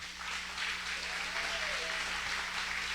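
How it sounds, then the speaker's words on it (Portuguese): A church congregation applauds during a worship service, a steady wash of clapping that fills the whole stretch at moderate, even loudness with a low hum beneath. "Aplauda bem forte ao Senhor."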